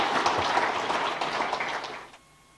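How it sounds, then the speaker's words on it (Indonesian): Audience applause at an internal iftar (breaking-the-fast) gathering of a political party, a dense, steady wash of clapping that fades out abruptly near the end. "Nah, sekarang boleh tepuk tangan yang meriah."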